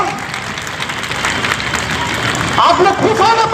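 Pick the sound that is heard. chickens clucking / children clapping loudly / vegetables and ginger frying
children clapping loudly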